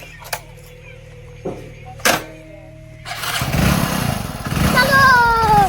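A motorcycle engine starts up after a few knocks and a talking voice, then runs with a rough, rising rumble while people speak over it.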